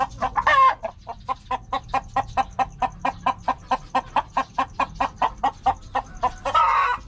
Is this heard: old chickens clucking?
yes